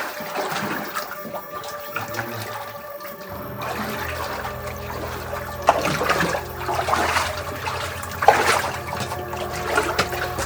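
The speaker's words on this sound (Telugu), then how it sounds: "వాటర్ కారుతున్నాయి ఇంట్లో మొత్తము." Water trickles and drips inside Mawsmai limestone cave in Meghalaya, a faint uneven running and splashing that echoes softly with scattered louder drops.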